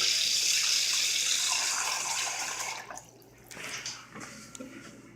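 A tap runs hard into a container, filling it to the brim with a loud, bright rushing that cuts off partway through, leaving a few quieter splashes and trickles.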